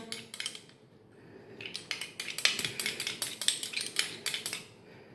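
A spoon scraping and clinking against a bowl or pan while mixing melted butter for hot chocolate fudge, a steady run of close, bright taps and scrapes that quicken toward the end.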